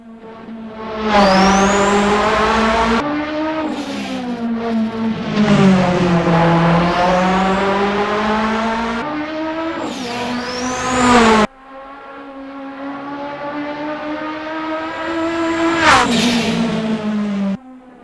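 The Marod Aero race car from the DRM Revival Pack in Assetto Corsa revs hard through a run of gear changes, its engine note climbing and dropping again and again, loud and up close with no voices.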